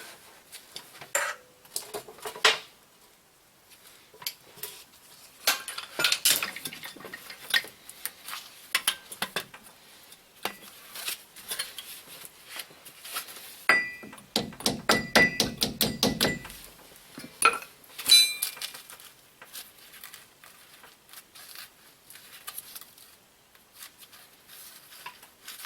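Sharp metallic taps and clanks ring out from a hammer knocking at a ball joint on a 2002 Chevy 2500HD, scattered single hits, then a rapid burst of repeated strikes, close and fairly dry.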